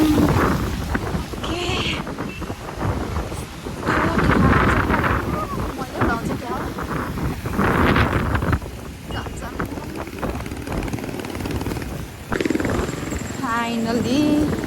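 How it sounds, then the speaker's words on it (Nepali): Strong wind blows outdoors, buffeting the microphone with a loud, continuous roaring rumble that surges and eases over about fifteen seconds while someone talks. "हावा पनि भएको त रुखै ढल्छ जस्तो"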